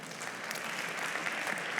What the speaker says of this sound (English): instead of laughter, I'm looking for applause here